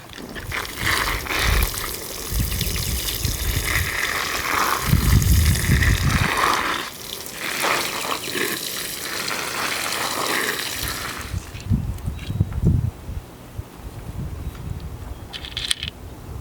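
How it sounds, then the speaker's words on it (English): Water trickling and splashing onto potting soil in a GreenStalk vertical planter planted with green beans, veggies and herbs, a steady close pour lasting most of the stretch, with softer dribbles and handling noises toward the end. "I'm going to water everything nicely"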